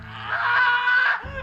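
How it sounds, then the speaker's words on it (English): A man's drawn-out scream from a gory horror film scene where flesh is torn, a single sustained strained wail lasting about a second, loud and close, then cutting off abruptly. "then the flesh is torn and he screams so beautifully"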